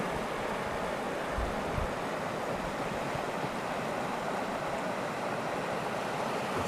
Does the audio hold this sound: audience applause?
no